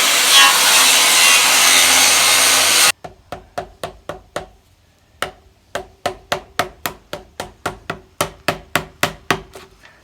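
A chisel works a wooden barn post during restoration, with sharp, close mallet strikes in a steady series of about twenty knocks following a few seconds of loud broadband noise.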